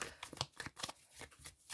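A deck of cards is shuffled in quick, soft riffling bursts close by, with faint repeated flicks and pauses between them.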